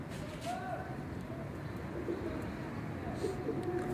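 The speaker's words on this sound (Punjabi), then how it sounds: "ਇਹ ਵੇਖੋ ਮਾਸ਼ਾਅੱਲਾ ਕਬੂਤਰ ਵੇਖੋ" Pigeons in a fancier's loft coo softly and intermittently against a steady low murmur of background noise, faint and somewhat distant.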